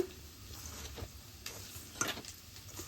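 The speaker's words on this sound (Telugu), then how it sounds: "Half spoon salt, 1 spoon oil వేసుకోవాలి. మనం కలుపుకోవాలి." Maida flour being stirred together with half a spoon of salt and a spoon of oil for shawarma bread, giving soft, quiet scraping and mixing strokes with a few brief sharper scrapes, close and low in level, with no talking.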